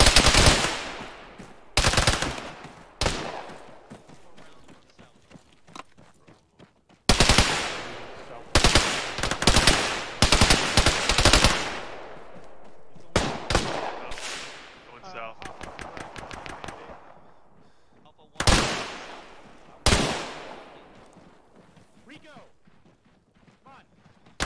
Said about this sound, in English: That's shooting from buildings to the west.